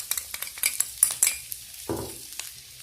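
Food, potatoes and meat, frying in a pan, with close stirring clicks and utensil scrapes over a light sizzle, then a brief soft burst of sizzling near the end.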